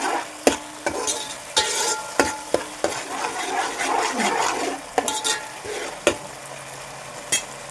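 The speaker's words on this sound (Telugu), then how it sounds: "ఇవైతే ఫ్రై అవుతూ ఉన్నాయి కదండి" Soya chunks frying in a pan for manchurian, a soft sizzle under repeated sharp clicks and scrapes of stirring at an irregular rhythm, close and moderately loud.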